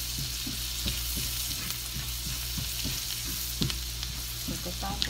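Onions frying in a pan for homemade butter chicken, a continuous crackling sizzle with frequent small stirring clicks and taps, close and fairly loud, no voices.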